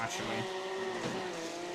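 A race car spins out in Assetto Corsa, its tires squealing and skidding over a steady engine drone, loud and continuous, with a voice talking over it.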